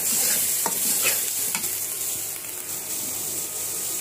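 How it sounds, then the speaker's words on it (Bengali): Spice paste fries in oil with onions in a pan, a continuous loud sizzle broken by scraping stirs of a spoon, close and steady with no talking. "তো এখন ভালো করে কষিয়ে নিই মশলাটা"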